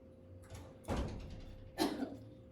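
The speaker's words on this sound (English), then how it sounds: "I'm going to close my door." An indoor door is pushed shut in a home, giving two soft, fairly quiet thuds about a second apart against low room noise.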